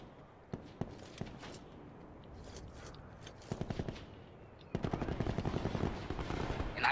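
Video game gunfire in a multiplayer shooter: a few scattered single shots, then short rapid bursts, and finally a sustained fast automatic volley toward the end, crisp and fairly close.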